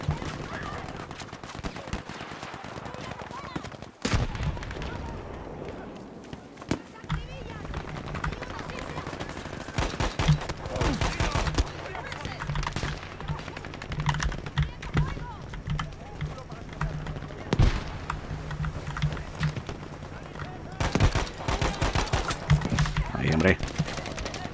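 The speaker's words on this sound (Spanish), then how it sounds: "Tiene una buena cadencia de tiros esta arma." Weapon gunfire in the World War II shooter Battlefield V, with repeated automatic bursts and sharp single shots scattered across the clip amid battle noise, while a player talks over much of it.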